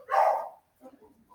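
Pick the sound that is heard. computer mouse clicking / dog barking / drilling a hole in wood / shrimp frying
dog barking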